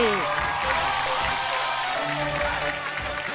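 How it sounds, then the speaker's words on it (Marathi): A studio audience at a Marathi television game show claps loudly and steadily, broad applause filling the room while a voice carries over it. "ही ताई एकदा जोरदार टाळ्या झाल्या पाहिजे"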